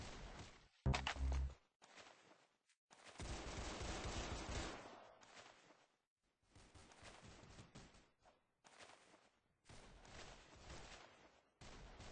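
Video game gunfire crackles in loud bursts: a sharp burst near the start, then a long dense volley, followed by scattered shots and quieter trailing clatter.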